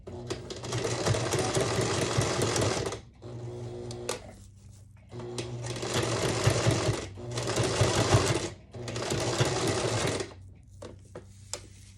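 A sewing machine stitching a ribbon-backed needlepoint belt, loud close whirring runs of rapid stitching broken by short pauses, with clicks and handling noises between bursts.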